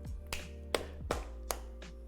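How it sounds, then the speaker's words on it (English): Sparse, soft hand claps from a single person, about five slow claps over a quiet, steady background hum. "Small applaud."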